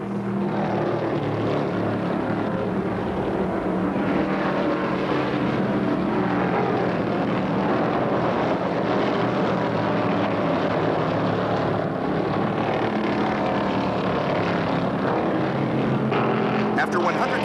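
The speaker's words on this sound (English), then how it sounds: "Out of turn two, Allison and Isaac are in a 170-mile-an-hour wheel-to-wheel duel." Stock cars roar wheel-to-wheel at about 170 mph out of turn two at the 1971 Michigan 400, a dense, steady engine drone that holds at full loudness the whole way through.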